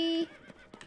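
Brief horse whinny from a mount in Zelda: Tears of the Kingdom, a short close neigh that quickly fades into soft hoof and rustle sounds.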